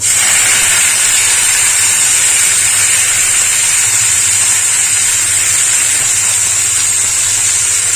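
Garlic and leafy greens fry in a hot pan with turmeric, giving a steady, loud sizzling hiss that holds unbroken from start to finish, close by, with no talk over it.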